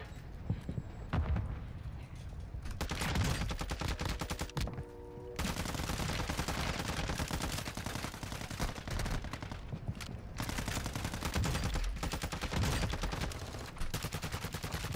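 Rapid gunfire from Call of Duty DMZ, dense bursts of loud automatic shots crackling almost continuously with brief pauses between volleys.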